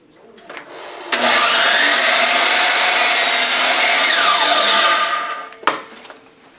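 A power saw cuts a piece of wood for a wooden letter opener, a loud sustained whine lasting about four seconds, framed by sharp knocks at its start and end.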